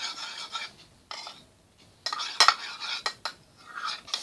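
Slime mixture being stirred in a bowl, giving soft wet scraping and rubbing strokes in bursts separated by short pauses, close and fairly quiet with no talking.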